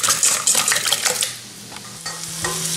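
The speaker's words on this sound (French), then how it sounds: "Je mélange." Eggs with a little milk and grated cheese whisked for an omelette, a brisk, close scraping and clinking of utensil against bowl, loud at first and then easing off into quieter stirring.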